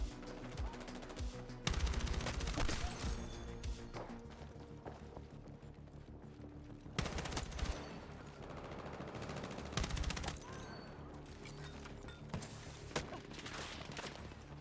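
Rapid bursts of automatic rifle fire from an M4 and other assault rifles in the video game Battlefield 6, loud and dense with sharp volleys around two, seven and ten seconds over constant combat din.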